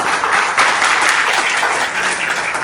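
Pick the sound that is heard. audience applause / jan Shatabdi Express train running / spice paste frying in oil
audience applause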